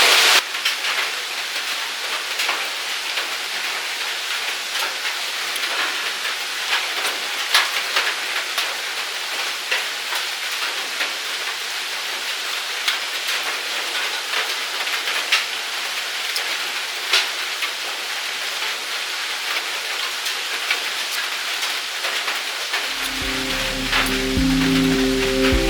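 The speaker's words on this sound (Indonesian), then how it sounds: "Semoga lah hujannya nggak deras" Rain falls steadily at a solo campsite at Bah Damanik, a constant close patter on surfaces that lasts throughout, with a low rumble rising near the end and no voices.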